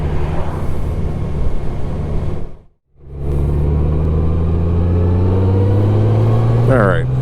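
Motorcycle riding close behind and then past a dump truck, a steady loud engine drone and road rumble that drops out briefly, then returns with a rising engine note.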